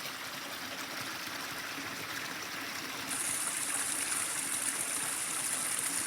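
Storm water rushing through a pipe after storm damage, a steady, close hiss and gush of flowing water that grows slightly louder and brighter halfway through, with no voices.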